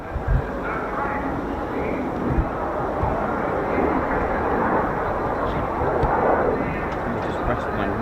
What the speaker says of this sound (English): I've got Typhoon taxiing now.